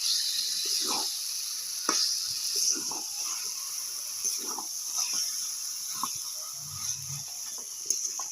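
Chicken goes into spice paste already fried in oil for Bengali chicken kosha, setting off a continuous high sizzle and hiss broken by soft scrapes and stirring knocks.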